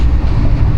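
Loud, steady rumble of a train running on the Vientiane–Luang Prabang railway, heard close from on board as continuous low-pitched roar with wind noise.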